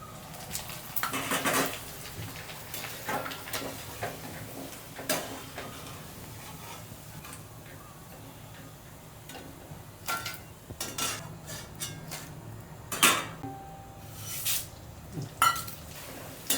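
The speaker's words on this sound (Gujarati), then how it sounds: "એટલે આમાં આપણે ફ્રાય કરી લઈશું એટલે ઝડપથી થઈ જાય" Corn poha flakes frying in hot oil in a kitchen pan, with scattered clinks and scrapes of utensils against the pot over a low background hiss, occasional louder knocks, no speech.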